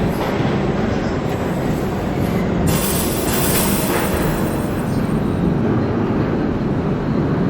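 An R38 subway train on the Q line toward Brighton Beach in the OpenBVE simulator, running with a loud, steady roar of wheels on rails, a faint high squeal above and light rhythmic clatter throughout.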